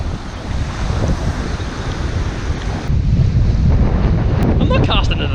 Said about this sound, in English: the wind's too much